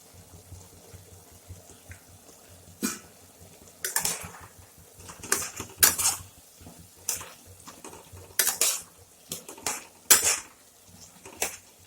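A metal spoon clinks and scrapes against a cooking pot in irregular clusters of bright taps while cumin powder and a little chilli are added for a chickpea and taro curry, with quiet gaps between bursts.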